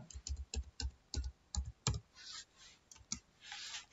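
Keystrokes on a computer keyboard while a word is typed into MS Word, a run of separate clicks, quick and fairly close, followed by quieter room noise with no talking.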